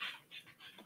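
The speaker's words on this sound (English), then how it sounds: "And one panting Lulu." Dog panting, quick soft breathy huffs in an even rhythm of three or four breaths, faint and close, with no talk.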